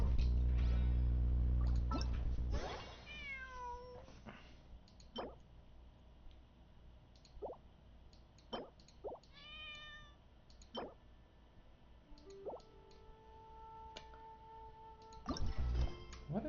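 A cat meows several times in Genshin Impact, with short sliding cries spread out among soft drips and plops, moderately faint, following a loud low rumble at the start. No one talks.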